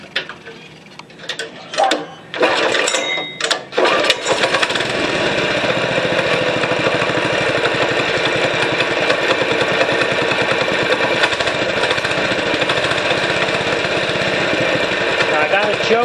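A small 6.5 hp gas engine with its throttle opened catches after a few sharp pulls and settles into a loud, steady, continuous running drone that fills the rest of the stretch.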